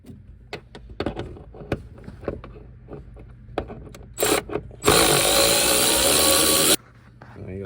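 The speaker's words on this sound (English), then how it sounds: "you're gonna remove the 10mm bolt right there, and then the 10mm bolt right there" A power tool whirs loudly for about two seconds while 10mm bolts come out of a fan shroud on a 6.6L engine, preceded by scattered clicks and clanks of work nearby.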